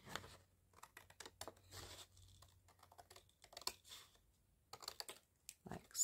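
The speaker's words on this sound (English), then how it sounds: "I'm going to cut down essentially the center panel" Paper being cut with scissors down the middle of a salvaged paper panel for a handmade belly band craft, giving close, quiet snips and crisp rustles in irregular bursts with brief pauses.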